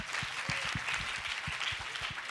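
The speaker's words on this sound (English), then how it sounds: "go ahead, you can clap" An audience at a coaching panel claps, a soft, fairly distant patter of many hands that runs steadily and stays quiet throughout.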